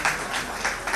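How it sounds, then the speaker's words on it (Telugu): Wedding guests clap together in a brief, loud burst with a few uneven rhythmic pulses. "అందరూ చప్పట్లు కొడతాం"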